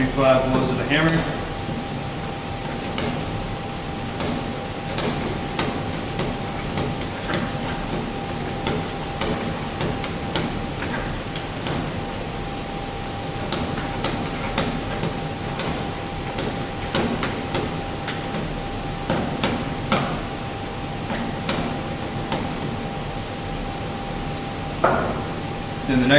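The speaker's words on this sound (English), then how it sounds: "You're going to do another 25 blows of the hammer." Compaction hammer strikes a soil sample in a cylindrical mold at a steady, repeated rhythm of sharp thuds, up close in a lab, with a person talking over the blows.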